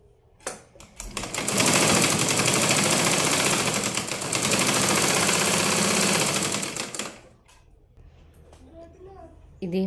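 A sewing machine stitches a blouse seam with a double stitch, a loud, rapid mechanical rattle running for several seconds before stopping, with a short burst at the start and talking afterward.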